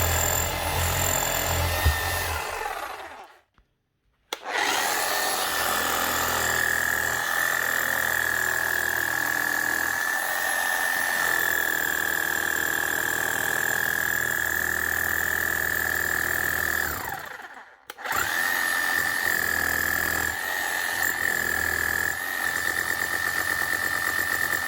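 A repaired 16-year-old Makita HM0860C demolition hammer runs loud and steady, with a high whining tone. Its run is broken by two brief stops, the first near the four-second mark and the second around eighteen seconds.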